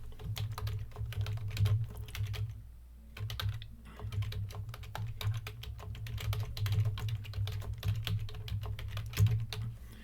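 Rapid keystrokes on a computer keyboard clatter close and clear in uneven bursts, with a short pause partway through, while a low hum sits underneath.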